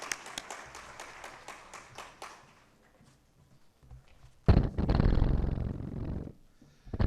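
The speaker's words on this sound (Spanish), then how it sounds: "recibimos con un fuerte aplauso al maestro Rafael Adrián Abante Juárez" An audience at a talk on workers' protection and human rights applauds to welcome a speaker: scattered claps at first that thin out and fade, then a louder, denser burst of noise before it stops.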